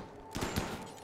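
Gunfire in the RimWorld video game during a fight with blades, a couple of quick muffled shots in close succession over a quiet background.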